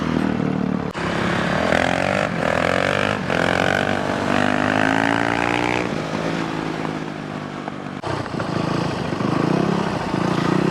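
Steady motorcycle engine riding along close and loud, the pitch rising and falling with throttle through the run and a couple of brief dips, no talking over it.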